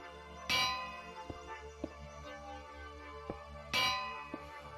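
Two hanging bell strikes in Minecraft, each a bright metallic clang with a long ringing decay, about three seconds apart, with a few soft clicks and taps between them and no talking.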